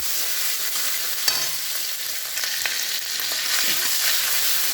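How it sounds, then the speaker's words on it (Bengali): Spice paste with ginger paste is frying and being stirred in a pan, giving a steady loud sizzle with a few scraping stirs. "আদা বাটা দেবো। মশলাটাকে সুন্দর করে কষাবো।"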